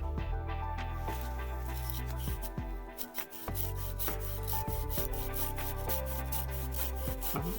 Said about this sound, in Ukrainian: А зараз подивимося, як ця пилка ріже гілку